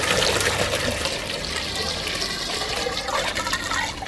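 Water swirling and draining from a basin at an equator demonstration site in Ecuador, a steady gurgling, trickling rush that stays close and fairly loud throughout, with no voices over it.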